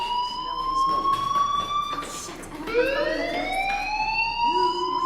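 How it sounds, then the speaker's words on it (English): A fire alarm rings in the Life is Strange video game, a steady, piercing tone sounding continuously throughout, with faint background noise and a rising electronic wail midway. "Hey, do you hear that fire alarm?"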